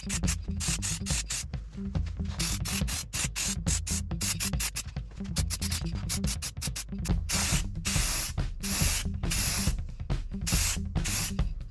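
Krylon Gloss Jungle Green spray paint hisses from an aerosol can onto a restored Tonka T6 toy loader in a shop, in many short bursts with brief pauses between them, close and fairly quiet.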